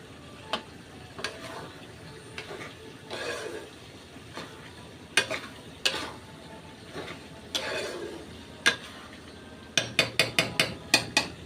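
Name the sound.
stirring beef tripe while frying it in a pot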